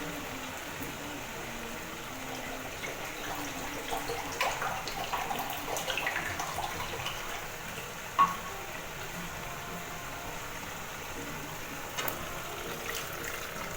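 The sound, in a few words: hot water being poured into a curd fish curry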